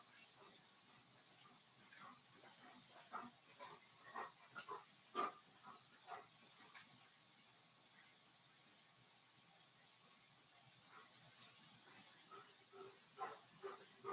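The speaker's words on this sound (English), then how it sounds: "You're panting too loud." A large dog pants close by in a quiet room, with irregular bursts of breathy huffs that pause briefly and then pick up again.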